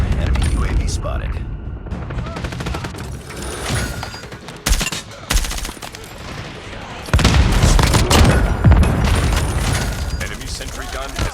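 Loud, chaotic explosions, blasts and heavy gunfire fill a video game battle as an enemy orbital laser strike hits, with a clipped announcer voice speaking over the din.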